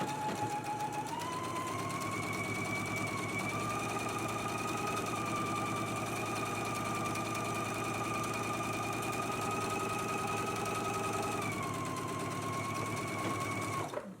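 A sewing machine stitches pockets on a garment with a 3/8-inch seam allowance, its motor whirring in one steady, unbroken run for about fourteen seconds, close and clear with no talking.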